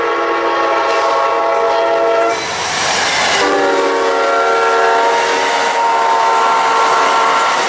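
An Amtrak passenger train roars past close by, its horn sounding in long sustained blasts over the rumble and clatter of the cars.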